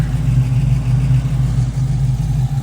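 Steady engine drone of race cars passing nearby on a road in the Smoky Mountains, a continuous low rumble with no clear pauses.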